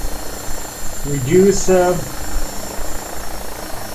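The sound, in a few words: AgustaWestland AW109SP helicopter flying, flight simulator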